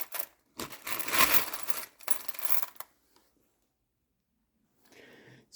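Singapore coins clink and rattle together while being sorted, a loud burst of jingling lasting about two seconds, followed by silence and then a faint, brief clatter.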